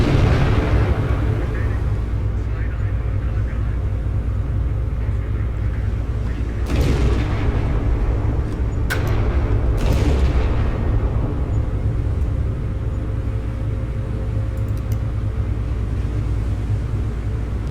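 Naval shells burst in a Battleship Command sea battle, a continuous low rumbling roar with a few sharper booming blasts near the middle, loud and dense throughout.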